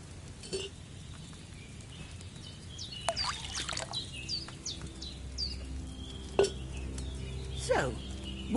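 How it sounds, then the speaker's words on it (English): Wine poured into a cauldron in Kingdom Come Deliverance 2, a soft liquid trickle over low ambient game background with faint bird chirps and a few light clinks of pots. "So, what did you pour in there? Wine, of course."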